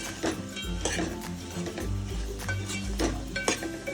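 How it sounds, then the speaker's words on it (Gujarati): Pieces of millet flatbread are stirred into a sizzling tempering in a pan. A spoon scrapes and clinks in repeated strokes over a low hum, with a faint fry underneath. "આ રીતે રોટલાના ટુકડા એડ કરી અને પાછું આને મિક્સ કરી દેવાના, વઘાર કર્યો એમાં."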